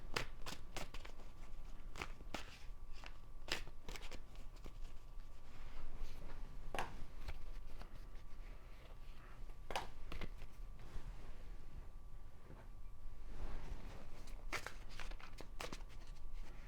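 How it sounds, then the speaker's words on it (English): Tarot cards are shuffled close by in a long run of crisp riffles and soft slaps, with quiet rustling between the bursts and no talking. "I'm going to go ahead and shuffle now."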